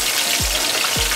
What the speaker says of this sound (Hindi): आपने पीस को पहले हल्का सा जो है ना पकड़ के ऑयल में रखना है